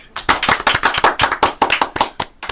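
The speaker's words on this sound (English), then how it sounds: "we're going to give her a hand before she starts because we love to clap" Audience clapping for a singer on a country radio show, a dense, rhythmic burst of close hand claps in uneven pulses that thins out toward the end.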